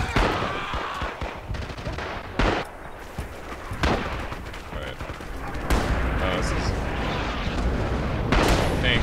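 Japanese artillery fire on Betio in Red Orchestra 2, a dense battlefield roar of booms and gunfire, with several sharp loud blasts standing out and voices talking over the din.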